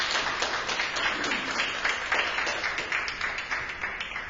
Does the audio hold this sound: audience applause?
yes